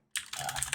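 Rapid typing on a computer keyboard, a dense run of close, crisp key clicks that starts abruptly after a brief silence and continues steadily with no voice.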